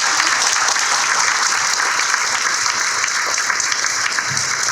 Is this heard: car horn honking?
no